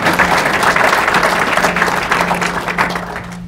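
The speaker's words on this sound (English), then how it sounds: "feel free to applaud" Town hall audience applauds steadily throughout, a dense, loud wash of clapping from a seated crowd that tapers slightly toward the end, with a low steady hum underneath.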